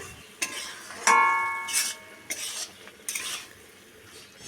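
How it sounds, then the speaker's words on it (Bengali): Spices being stirred into raw tomatoes in a cooking pan, a few sharp metallic scrapes and clinks of a spoon against the pan over a faint sizzle, close and without talk. "এবার মশলাটা দিয়ে নেড়ে চেড়ে"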